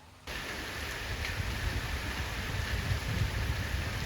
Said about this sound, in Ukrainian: Раптова злива сьогодні накрила Чернівці. Лило рясно, утім недовго.